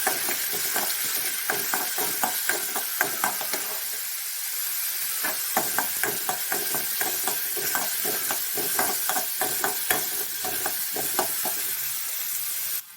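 Hibiscus flowers and green chili sauté in a hot pan with steady sizzling and hissing, broken by repeated scraping stirs of a spatula, close and continuous throughout.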